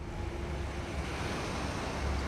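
Water waves in Hogwarts Legacy, a steady surf-like wash with low rolling swells, moderately loud and continuous, with no voices.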